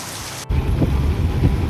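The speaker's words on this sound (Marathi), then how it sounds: "पाऊस तर अजून कंटिन्यू पडतोय" Heavy monsoon rain pours steadily in a farming village, a dense continuous hiss that grows louder after a brief cut, with no voices.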